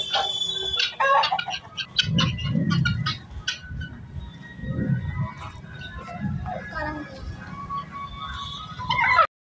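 Several chickens cluck and squawk nearby on a poultry farm in an irregular stream, with a voice talking in Hindi over the birds throughout.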